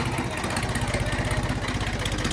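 A Ford 3600 tractor diesel engine idles close by as it is driven out, a loud, steady, rapid chugging throb with no speech over it.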